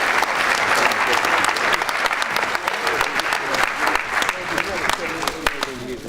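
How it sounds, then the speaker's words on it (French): Sustained applause from an audience at an apprentice awards ceremony in Aveyron, France, with dense, steady clapping filling the space from start to finish and a few voices mixed in. "Des derniers applaudissements, s'il vous plaît, pour cette catégorie de cette médaille."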